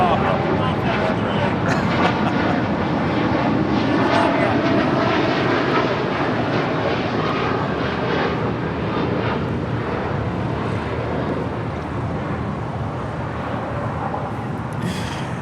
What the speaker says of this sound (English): That is American Airlines Flight 27 Heavy departing to Tokyo Haneda on the 787-8 Dreamliner.